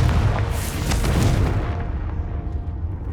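A Confringo blasting-curse explosion in Hogwarts Legacy hits with a heavy, deep boom that rumbles and fades over a few seconds, loud and close, with no talk.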